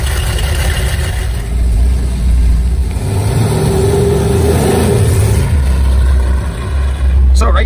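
1970 Dodge Challenger muscle car engine revving and rumbling, rising and falling in throaty surges, with people talking over it.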